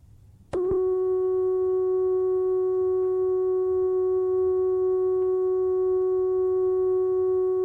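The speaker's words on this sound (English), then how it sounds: "We're listening to a sine wave" A steady, pure synthesizer oscillator sine tone switches on abruptly and holds at constant pitch and loudness, with faint low hum beneath it.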